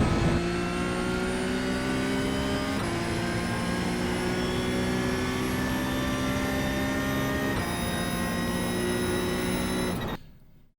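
A Porsche GT3 Cup 992.1 racing engine in iRacing at Silverstone holds full throttle, a loud, steady high-pitched roar that climbs in pitch through each gear, with brief dips at the shifts, before cutting out at the end.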